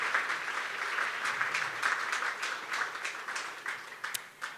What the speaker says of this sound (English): Yes, you can give her a round of applause.